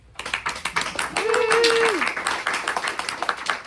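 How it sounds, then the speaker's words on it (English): Theatre audience clapping after a play, a brisk scatter of hand claps close by, mixed with talk and a short sung or hummed tone partway through. "So now the audience is going to clap"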